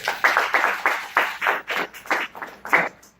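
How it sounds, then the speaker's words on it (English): Brief clapping from a presentation audience, roughly a dozen distinct claps in an uneven rhythm, close and fairly sparse rather than a full ovation. "Clap it up for them one more time"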